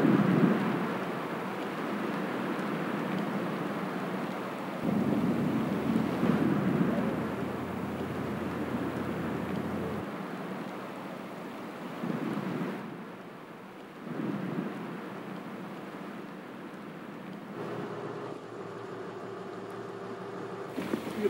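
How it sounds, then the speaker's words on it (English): Massive chunks of ice calving from Hubbard Glacier near Yakutat, Alaska, crash into the sea, heard from a drifting boat with engines off as a deep, continuous rolling rumble with several heavier swells over 21 seconds. "Mark cuts the engines to hear the rolling thunder of school bus-sized chunks of ice"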